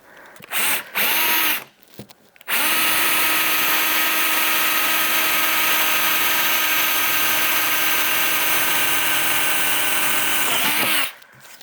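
A Japanese drill bit bores a hole in wood with a loud, steady power-drill whine lasting about nine seconds, preceded by a few short bursts as the drill starts and stops.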